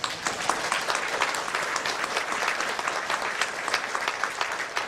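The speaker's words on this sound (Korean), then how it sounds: "집사님 인사할 때 큰 박수로 축하하고 축복해 주시기 바랍니다" A congregation at a church deacon ordination and 77th-anniversary thanksgiving service breaks into loud, sustained applause, many hands clapping densely and evenly throughout.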